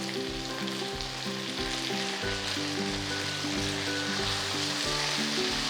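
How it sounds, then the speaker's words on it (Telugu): Whole eggplants with stems still attached fry in a pan of hot oil for a Telugu eggplant and drumstick curry, giving a steady, dense, close sizzle throughout. "సో 5 minutes తర్వాత నేను వంకాయలు వేసేస్తున్నాను."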